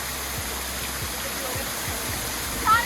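A waterfall in Rishikesh roars as a steady broadband wash of falling water, continuous and fairly loud, with faint splashing and a brief louder burst near the end.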